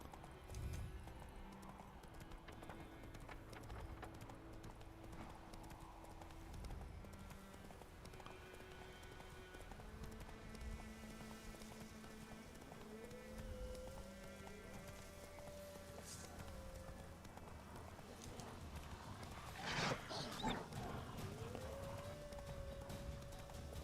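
Faint, rhythmic hoofbeats of a galloping horse in The Witcher 3: Wild Hunt under soft background music, with a brief louder burst near the end.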